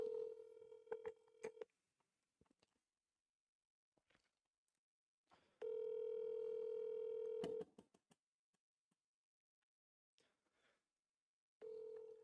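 A landline telephone dialing a call, with a steady dial tone broken by short touch-tone bursts and clicks, then the tone returns, quiet and close with no talk.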